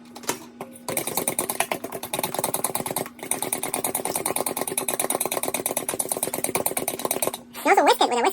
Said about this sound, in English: you can also use a mixer like this